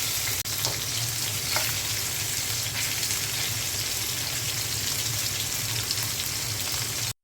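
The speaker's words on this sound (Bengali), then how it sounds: "এই বাটা মাছ কড়া করে ভেজে গরম গরম ভাতের সাথে খেতে কিন্তু" Bata fish fry in hot oil to a crisp, giving a loud, dense and continuous sizzle with faint crackles throughout, heard close up with no talking, before cutting off abruptly at the end.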